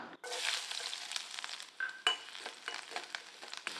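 Chopped garlic sizzles and crackles in a hot pan while being stirred, with sharp spatula scrapes and bursts of frying near and clear, no talking.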